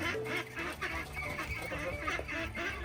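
Geese or ducks honk and cackle repeatedly at a Nepali farmhouse, fairly close, mixed with farmyard fowl calls and background noise.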